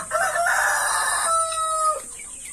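Shamo chicken on a farm crowing close and loud in a single drawn-out call, with faint fowl sounds around it.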